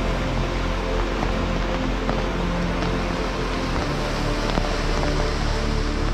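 A flooded village river rushes past near an old bridge, a dense, unbroken roar of churning water that stays loud and close the whole time.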